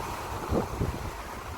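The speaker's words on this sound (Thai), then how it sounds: "ลมก็ พัดค่อนข้างแรง" Strong outdoor wind roars steadily, a broad close buffeting rush with a few low gusty thumps against the microphone, and no speech.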